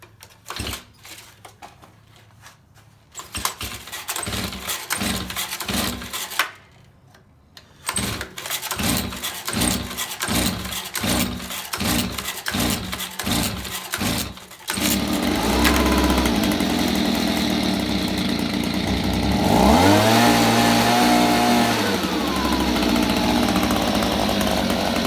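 A Stihl BG-85 leaf blower, once stuck in a no-start condition, takes a rapid series of rhythmic pull-cord cranks before sputtering to life and running loud and close, its two-stroke engine revving up near the end.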